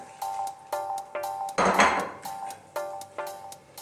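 A metal lid is set back onto a pot of sinigang with bangus, with a run of sharp metallic clinks and taps in a steady rhythm and one brief louder scrape in the middle.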